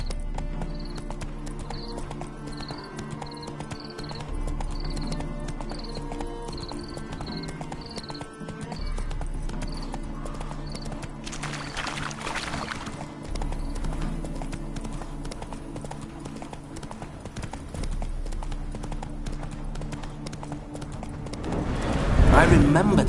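Hooves of Geralt's horse Roach in The Witcher 3 clip-clop in a steady galloping rhythm throughout, with game music and voices talking over them, ending in a louder swell.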